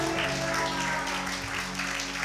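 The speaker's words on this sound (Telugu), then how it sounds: "గట్టిగా చప్పట్లు కొట్టాలి." A church congregation claps loudly and steadily, a dense continuous wash of many hands with no voices on top.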